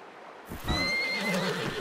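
A horse in Red Dead Redemption 2 lets out a single whinny, rising then trailing off over about a second, heard close and alone after a brief quiet start.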